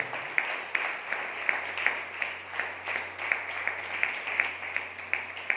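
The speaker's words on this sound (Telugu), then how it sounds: "సజీవుడైన యేసుక్రీస్తు ప్రభుకు ఒకసారి చప్పట్లు కూడా దేవుడు స్తుతించండి." A church congregation at a Sunday service claps in praise, a steady rhythmic beat of many hands at moderate distance over a low hum.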